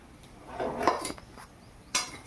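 Fried fish goes into a simmering curry in a pot. A spoon gives a couple of soft clinks and scrapes against the pot, faint and brief.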